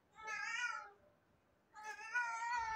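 A cat meows twice, close and clear, two drawn-out calls separated by a short quiet pause.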